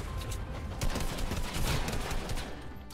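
Dense bursts of rapid gunfire in Fortnite Battle Royale, overlapping shots in a near-continuous volley, loud and close with no talking.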